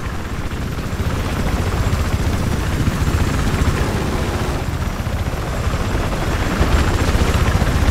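A military helicopter's rotor in Battlefield 4 thumps loudly and steadily throughout, a dense, close, continuous chopping roar with no voices.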